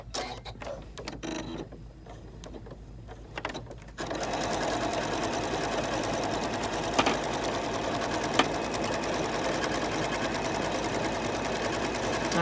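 A Janome 15000 sewing machine stitches out an embroidery motif on fabric. Quieter mechanical clatter gives way to a loud, steady, rapid whirring and tapping that runs continuously and up close, with no talking.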